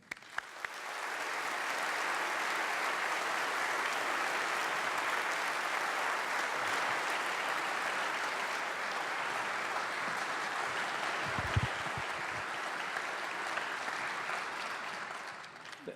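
Steady, sustained applause from an audience at the Westminster Town Hall Forum welcoming speaker Mark McKinnon, filling the hall evenly for around fifteen seconds before fading out.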